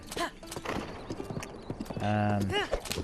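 Horse hooves clip-clop in the video game The Legend of Zelda: Breath of the Wild, a brisk steady gallop of a horse with a whinny toward the end, under someone talking.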